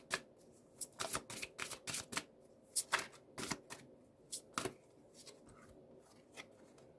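Tarot cards being shuffled by hand in a series of crisp, rapid riffling bursts with short pauses, close and fairly quiet, with no speech.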